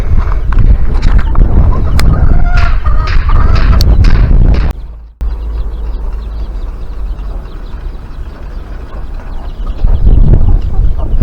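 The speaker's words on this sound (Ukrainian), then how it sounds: "Дивіться, як кури понабігали до поїлочки, п'ють майже всі." Chickens clucking and murmuring in a busy cluster as they crowd around a waterer to drink, with scattered sharp knocks and clatter, close by; the noise briefly cuts out midway before continuing.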